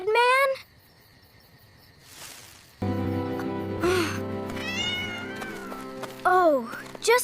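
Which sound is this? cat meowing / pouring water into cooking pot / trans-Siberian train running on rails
cat meowing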